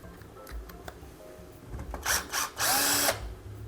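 Power drill driving screws back into a kitchen ceiling light fitting, heard as a few short close whirring bursts, the last one longest, after some faint handling clicks.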